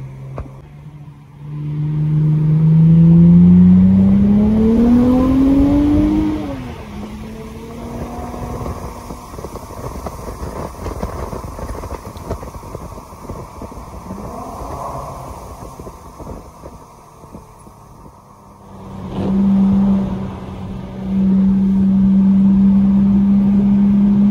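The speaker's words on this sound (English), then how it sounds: "let me know what you think about the new exhaust sound" An Infiniti Q50 3.0t twin-turbo V6 with an aftermarket exhaust pulls hard through the gears, drones while cruising and revs again, a loud rising engine note heard from inside the car.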